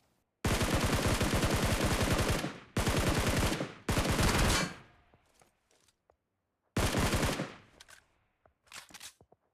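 Automatic gunfire in a BGMI video game fight comes in three loud, rapid bursts close together, then a pause and a fourth burst, followed by a few faint scattered shots.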